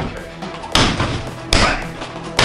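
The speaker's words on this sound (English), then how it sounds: "That's your perfect back kick." Three sharp, loud impact thuds of a back kick striking a target, evenly spaced about three-quarters of a second apart, with no voice between them.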